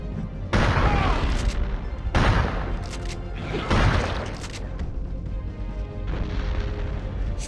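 Shotgun blasts boom in the first-person shooter Turok 2 along a river level. Three loud, heavy shots land about a second apart, each with a crashing tail, and a fourth, softer blast follows near the end.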